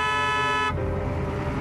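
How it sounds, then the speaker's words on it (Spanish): A car horn blares in one sustained honk that cuts off abruptly, leaving low traffic rumble behind. "Tócale bocina."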